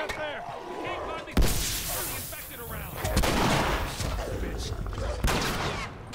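Gunfire in The Last of Us, with loud bursts and rapid repeated shots from about a second and a half in, mixed with heavy game noise and a voice talking over it.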